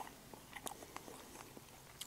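Faint, close crisp crunches from biting into a deep-fried chicken wing coated in sticky teriyaki sauce, a few sharp snaps scattered through quiet chewing.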